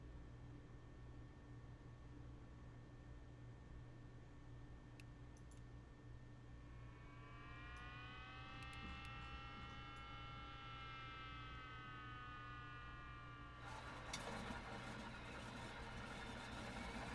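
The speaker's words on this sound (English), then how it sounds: "we've got a successful engine start here on engine number 1" Ford Trimotor radial engine number one starting from cold in Microsoft Flight Simulator at Salzburg, a steady low hum giving way to a rising whine as the engine spins up, then a rougher broadband roar as it catches.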